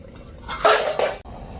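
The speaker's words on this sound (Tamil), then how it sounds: "இப்போ கொஞ்சம் மூடி வச்சுருவோம் தட்டை போட்டு." A metal plate set down as a lid over a cooking pot gives a short clattering clink of metal on metal, close and fairly clear, with no talk.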